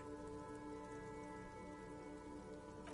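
Rain ambience from a PS4 video game: steady rain dripping off roofs along an urban coastline, a continuous, even hiss with no voices.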